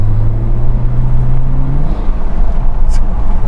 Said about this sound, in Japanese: さあアクセル全開。